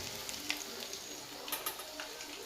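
Oil sizzling steadily in a frying pan, a constant crackling hiss with small pops scattered through it, close and moderately loud with no voices.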